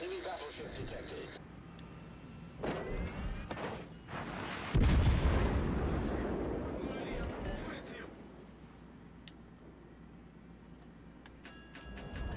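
Naval artillery salvos in the World of Warships Legends game, a few sharp gun reports early followed by one big heavy blast that rumbles and fades, with faint game sounds and clicks around it.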